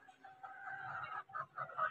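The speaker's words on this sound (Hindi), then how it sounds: "ये मुर्गियाँ वगैरह रखी हुई हैं घर में" Hens clucking inside a home chicken coop, a few close, short bursts of clucking with brief pauses.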